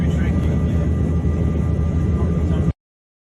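An airplane cabin fills with a loud, steady broadband roar of engines and airflow during the flight to Chicago, continuous and unbroken until it cuts off abruptly.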